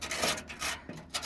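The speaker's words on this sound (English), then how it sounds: "So I'm going to sand that down and make it smooth." Light hand-sanding of rusty spots with 180 grit sandpaper during a touch-up of a Wolverine dollhouse, a soft papery rubbing in short back-and-forth strokes, close and fairly quiet with no voices.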